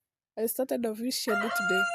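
A rooster crowing in a village, loud and close, with a strained, rising and falling call that starts after a brief silence, while a voice talks over it.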